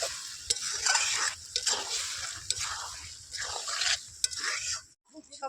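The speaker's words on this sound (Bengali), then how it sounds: "আমি সবজির মধ্যে অল্প একটু চিনি দিয়ে ভালো করে নাড়াচাড়া করে নেব।" Ridge gourd pieces sprinkled with sugar sizzle in a pan while being stirred, a continuous close frying hiss with scraping strokes and small knocks, cutting off near the end.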